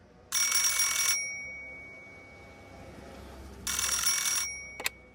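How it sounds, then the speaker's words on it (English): An office telephone rings in two clear electronic bursts separated by a pause, followed by a brief click as the receiver is picked up in a quiet room. "Then the phone rang."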